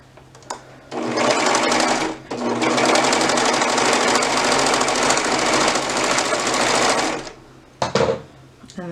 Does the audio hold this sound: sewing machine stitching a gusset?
yes